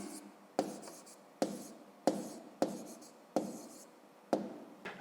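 A pen writes an answer on paper for a fifth-grade maths exercise, making seven distinct, fairly close scratchy strokes at a steady rhythm, each a sharp onset that fades quickly, with no talking.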